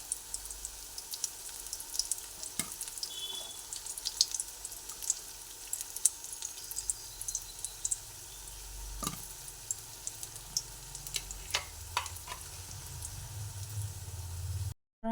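Spinach fritters frying in oil in a pan give a steady close sizzle, with occasional sharp clicks and scrapes of a spoon lifting them out, and a faint watery trickle partway through; no one speaks.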